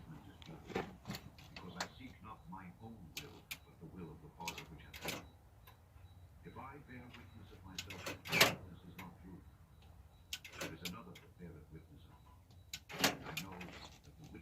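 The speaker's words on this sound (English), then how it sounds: "I hear that side over there locking and unlocking" Door locks on a Sprinter van actuate with repeated short mechanical clunks and clicks spread through the stretch, fairly faint, while someone talks at intervals and a couple of sharper door knocks stand out.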